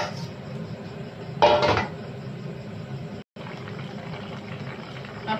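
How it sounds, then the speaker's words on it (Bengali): Potatoes tipped into a pan of simmering Bengali ilish fish curry, giving one brief splash-and-clatter burst over a steady low bubbling, with a faint clink near the end. "আর ফুটে উঠেছে, এবার আমি আলুগুলো দিয়ে দেবো।"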